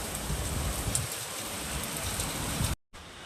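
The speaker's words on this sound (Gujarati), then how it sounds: "વરસાદ પડે છે પણ વીજળી છે ને એટલે નાવાની બીક લાગે છે" Heavy monsoon rain pours down in Junagadh, a dense, steady hiss of a downpour close by that drops out briefly near the end before resuming.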